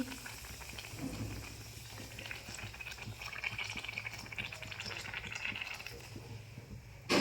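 Luchi made with jackfruit frying in hot oil, a steady close bubbling and crackling hiss that runs throughout at an even level, with no talking.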